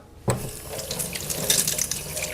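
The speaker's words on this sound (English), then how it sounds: "let's go rinse our hand real quick" Water gushes from a sink tap as a hand is rinsed under it, the stream starting abruptly and running steadily with splashing close by.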